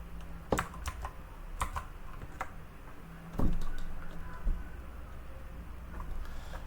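Keys clack on a computer keyboard during Rust coding, irregular taps and short bursts of keystrokes, fairly close, over a quiet background with no talking.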